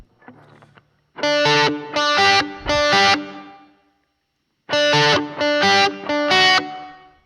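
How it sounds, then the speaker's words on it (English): An electric guitar rings through a Strymon Flint reverb pedal set very subtly, with two groups of four strummed chords that each trail off in a short wash, and a brief silence between the groups. "that's a good always-on reverb for probably most people that use reverb"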